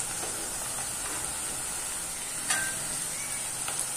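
Chopped garlic dropped into onions frying in a pan for a fish curry gives a steady, bright sizzle and hiss, with a few faint clicks of stirring and no voices.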